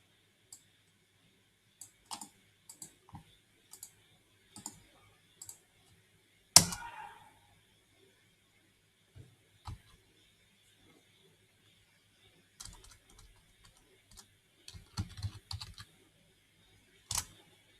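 A computer keyboard being typed on in short, sparse clusters of light clicks across a quiet stretch, with one sharper louder tap partway through and a final small flurry of keystrokes near the end.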